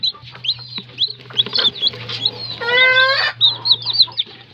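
A Talisay gamecock raised for fighting gives a run of sharp, high clucks and chirps, close and fairly loud, with a short harsher burst near the middle and a low steady hum underneath.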